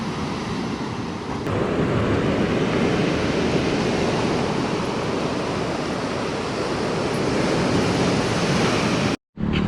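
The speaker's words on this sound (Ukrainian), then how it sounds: "Лігорійське море." Ligurian Sea surf at Ventimiglia roars steadily and loudly, a broad continuous wash of breaking waves with wind buffeting the microphone, and the sound cuts out abruptly near the end.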